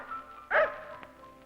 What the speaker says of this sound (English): Come here, little doggy.